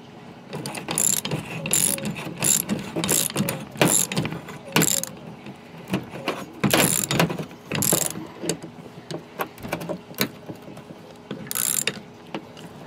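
Homemade fishing reel with a power handle, assembled with a washer and lock nut, ratchets in bursts of rapid clicking as its handle is turned, close and fairly loud with brief pauses between spins.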